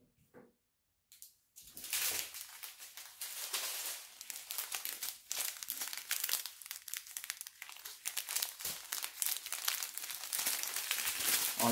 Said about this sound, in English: All you hear is a bunch of crinkling.